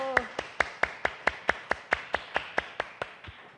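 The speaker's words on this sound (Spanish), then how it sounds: "Le damos un aplauso al Señor" Hands clapping in a church congregation during a Bible class: about fourteen sharp, evenly spaced claps in a steady rhythm, fairly close and clear, each one distinct, with a brief voice at the very start.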